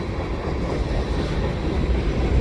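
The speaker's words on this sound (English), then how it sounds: "And there's a train." A CN freight train rolling past at Sainte-Anne-de-Bellevue, a loud, continuous low rumble and rattle of wheels and cars, steady throughout with no voices.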